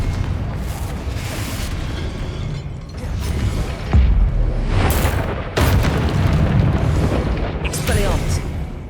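Confringo fire spell blasts in the Hogwarts Legacy video game: loud booming bursts landing around the 4, 5 and 5.5 second marks over a constant rumbling battle bed, with a voice talking throughout.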